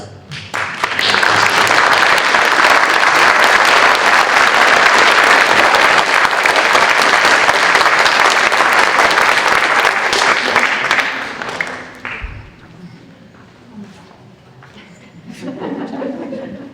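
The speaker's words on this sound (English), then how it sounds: "let's give him one more round of applause" Audience at a middle school academic honors ceremony gives loud, sustained applause for about eleven seconds, then it fades out. A short lull follows before voices rise near the end.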